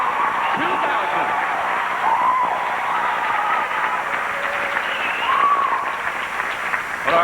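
A pageant audience at Miss Illinois 2000 breaks into sustained applause, a dense and steady clatter of many hands that keeps going at a loud level with scattered cheers mixed in.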